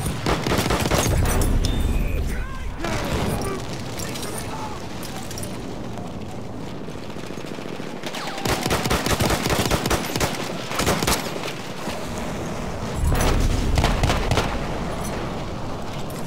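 Machine gun fire in the video game Battlefield 1 on the St. Quentin map, dense rapid rattling bursts mixed with explosions and scattered shots, loud and continuous throughout the battle.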